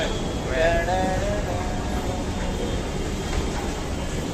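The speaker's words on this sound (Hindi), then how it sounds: "Now finally we get entry inside the metro train" Jaipur Metro train in motion, heard from inside the carriage: a steady low rumble of running wheels and motors with faint high electric whines early on, while people talk nearby.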